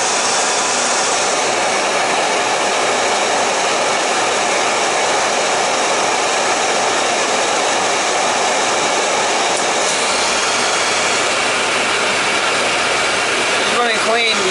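Scotch marine boiler burner firing in a boiler room, a loud steady broadband roar that holds constant throughout, with people talking faintly under it.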